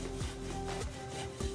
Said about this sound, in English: Rub it down with your hands if they're clean.